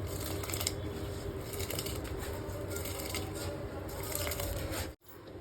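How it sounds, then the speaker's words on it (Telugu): A steady, dry rattling patter of rice grains poured into a pot of boiling water, continuing for several seconds before stopping abruptly. "బియ్యం వేస్తున్నా."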